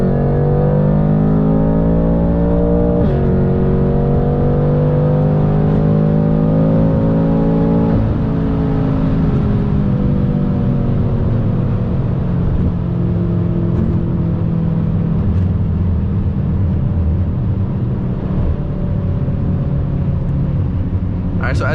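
BMW F10 M5 with a JB4 tune accelerating hard, its loud, close engine note climbing steadily in pitch through one gear, then dropping at a shift and rising again through the next.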